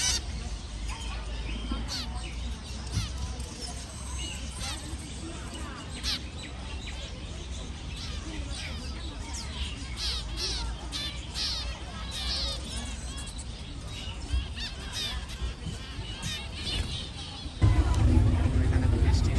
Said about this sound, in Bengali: দেখেন সারা সব জায়গায় পাখি এরকম করতে।